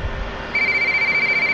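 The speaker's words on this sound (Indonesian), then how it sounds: "ada telepon teman-teman" A telephone rings in the Indonesian horror game Pamali as a single steady, loud electronic ring tone that starts partway through, with no talking.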